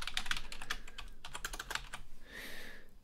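Rapid typing on a computer keyboard up close, a steady patter of key clicks with brief pauses, ending in a softer hiss of faint room noise.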